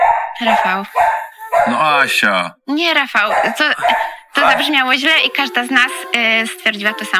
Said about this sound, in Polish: sorry za psy w tle.